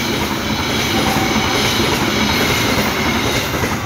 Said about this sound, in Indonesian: Kereta api Arina dengan nomor k 123 Relasi Surabaya Pasar Turi ke Bandung